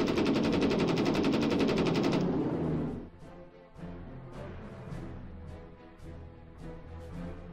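Heavy machine gun fire in the Battle Academy war game: a dense, loud, continuous burst for about two seconds, then fading into scattered quieter shots and rumbling battle noise.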